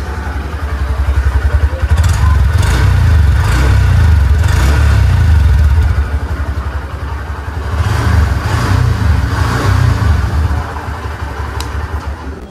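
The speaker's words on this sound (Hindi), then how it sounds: "सो बाइक को स्टार्ट करते हैं गाइस, आप लोगों को एग्जॉस्ट नोट सुनाता हूँ।" A 2023 Honda SP 125 Sports Edition OBD-2 motorcycle idles up close, its exhaust note a steady, loud thumping putter that swells slightly with a few light throttle blips.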